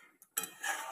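A lid set down on a cooking pot of vegetable curry with taro and potato, a short clink followed by a brighter metallic contact and a brief ringing settle, close and fairly quiet.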